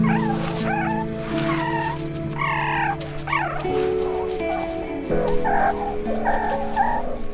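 Day-old meerkat pups with eyes still closed, searching for milk inside a burrow, give repeated short squeaky chirps and whimpering calls, close by over a steady low hum and background noise.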